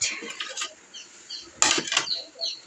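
Six old ceramic plates, bought for a home about eight or nine years ago, are handled in a kitchen, clinking and knocking a few times at close range in short scattered bursts with no talk.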